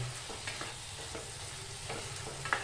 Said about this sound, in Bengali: এবার এটা দিয়ে নাড়াচাড়া করে নেব।